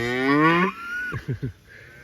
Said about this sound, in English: These cows think we're gonna move them. That's why they're bawling.